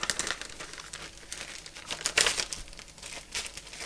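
A piece of Birchwood Casey lead remover and polishing cloth is cut, giving a run of soft crinkling, rustling snips spread across several seconds, close and quiet with no talk.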